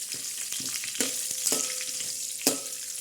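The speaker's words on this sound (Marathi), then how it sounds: "बडीशोप द्यायची आपण सोडलेला हे चांगला असा हलून घेणार आहोत" Fennel seeds fry in hot oil in a pan while being stirred, a tempering step for a sweet jaggery rice dish. A steady close sizzle carries sharp clicks and pops through roughly three seconds, with no talk.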